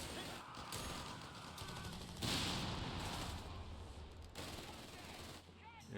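Rapid bursts of heavy .50 cal machine gun fire rattle through a Company of Heroes 3 battle, with dense continuous gunfire and mechanical clatter under a commentator talking.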